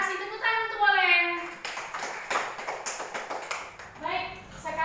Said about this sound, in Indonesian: Tepuk tangan untuk Boleng.